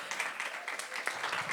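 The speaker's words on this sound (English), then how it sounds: "You guys, a round of applause, please." Audience applause closing a music-industry panel discussion, a short, steady patter of clapping from a modest crowd, fairly faint and even throughout.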